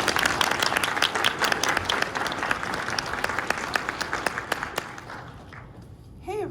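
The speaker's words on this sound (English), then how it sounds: "let's give Dr. Appman a round of applause and let her go" Conference audience applause for a speaker, many hands clapping loudly and densely, then thinning out and fading to scattered claps before a voice starts speaking at the very end.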